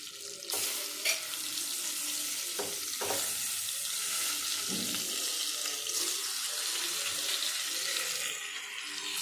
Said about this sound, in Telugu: వాటిని దీంట్లో వేసేద్దాం వేసేసి ఫ్రై చేసుకుందాం